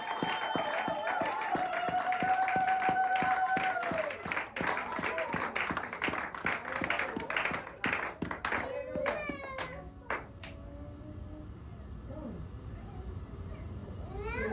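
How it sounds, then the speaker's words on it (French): A church congregation applauds during a Sunday worship service in Sherbrooke, Canada, with dense rhythmic clapping that rises, thins out toward the end and gives way to scattered claps, while voices are heard throughout. "Tozopeta lisusu maboko"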